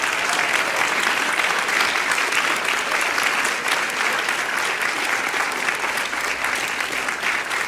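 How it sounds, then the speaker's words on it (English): A church congregation applauds in sustained, dense clapping that stays loud and steady throughout, with no voices rising above it. "so that we can laud you and applaud you"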